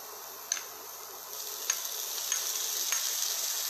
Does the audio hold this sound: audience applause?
no